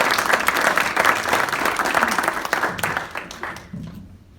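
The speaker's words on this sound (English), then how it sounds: "So if we could have a round of applause for these Paul Harris Society members" A Rotary club audience applauds Paul Harris Society members, with a full burst of clapping that stays strong, then thins and fades away near the end.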